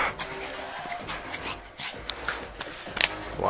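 Hyper dog panting in quick, close breaths with occasional whimpers and small yips, scuffling sounds mixed in.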